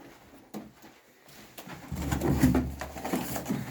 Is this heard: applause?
no